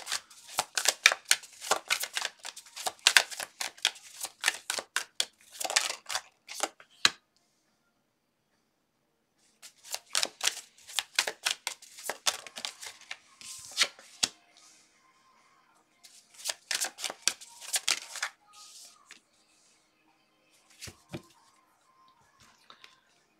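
Tarot cards are shuffled by hand in quick riffling bursts, three separate rounds of crisp flicking and snapping with short pauses between them, close and clear with no talking.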